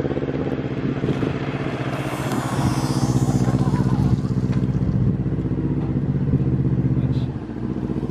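Varla Eagle One Pro dual-motor electric scooter accelerating hard, a steady loud motor whine and rushing road and wind noise filling the whole stretch, with voices talking over it.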